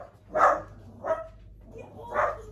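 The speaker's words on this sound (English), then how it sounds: "Dog's barking. There's somebody at the gate." A dog barks at someone at the gate, three separate barks spaced out at a moderate distance with quiet between them.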